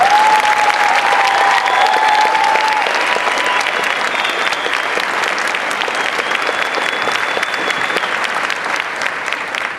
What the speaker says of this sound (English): Join me in a round of applause again.